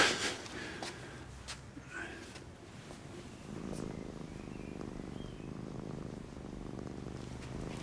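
A cat purrs softly and close, a faint, rhythmic rumbling that continues under a quiet room, with a few light breaths or snorts mixed in.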